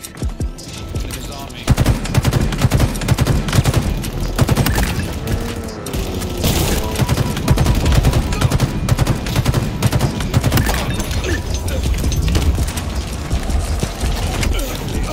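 Turret gunfire in Halo Infinite Big Team Battle, a loud, sustained stream of rapid automatic shots that rattles almost nonstop after a brief quieter start, with speech faintly underneath.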